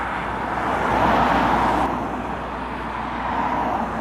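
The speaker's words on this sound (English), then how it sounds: "we were met with this Carter haulage Scania with a low loader off to collect something" Carter Haulage Scania truck hauling a low loader passes on a Lincolnshire road, a broad roar swelling and fading over a few seconds with steady road noise behind.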